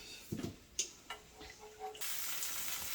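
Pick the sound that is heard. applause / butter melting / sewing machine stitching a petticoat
butter melting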